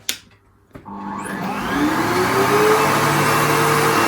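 A Sebo X7 upright vacuum cleaner with a soft start motor powers up after a click, its whine rising gradually over a few seconds into a steady, loud, close running drone.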